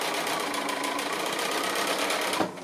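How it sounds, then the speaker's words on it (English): A sewing machine stitching the last corner triangle onto a quilt block runs in a steady, close, buzzing whir for a couple of seconds, then stops abruptly. "I'm just sewing the last corner triangle on now."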